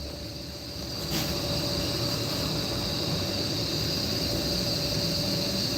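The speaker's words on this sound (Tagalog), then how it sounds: "Ayan, naririnig niyo yung mga kuliglig." Crickets chirp in the mountains, a constant high-pitched drone of overlapping insect tones that sits evenly over a soft background hiss.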